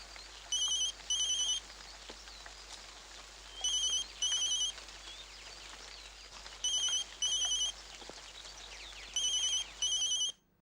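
A telephone rings in repeated double bursts, four rings across the span, moderately loud over a steady hiss of rain, with the call left unanswered and no one speaking.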